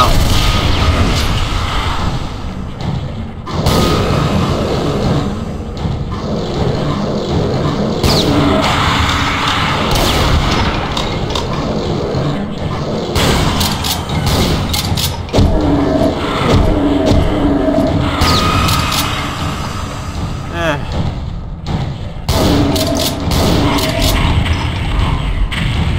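Cannon fire in the video game Brutal Doom 64, loud repeated booming blasts layered with grinding mechanical clatter and creaks, forming a dense continuous din with no talking.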